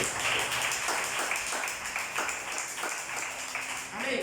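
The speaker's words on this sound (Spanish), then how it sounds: "Den un aplauso a Dios." A church congregation applauds together, a dense, steady wash of many hands clapping that holds at an even level throughout.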